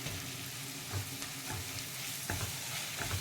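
Mint and ginger paste fry for bagara rice in a constant loud, dense sizzle, with occasional stirring scrapes close by.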